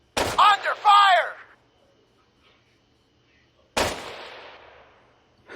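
Two sharp gunshots ring out in Arma 3, a short burst near the start and a single loud crack later with a long echoing tail, separated by near silence.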